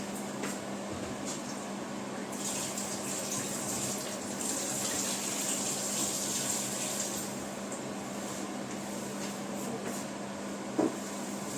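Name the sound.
water running from a tap while washing hands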